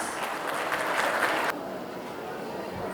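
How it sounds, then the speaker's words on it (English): Audience applause fills a school annual day hall, a steady wash of many hands clapping for about a second and a half before thinning to a quieter, lingering patter. "Let's appreciate their hard work and dedication with a big round of applause"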